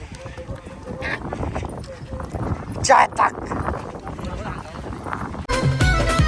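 Hooves clattering in a fast, steady rhythm as bullocks run past in a bullock cart race, with a lively crowd and a commentator's voice over the top, loud and close.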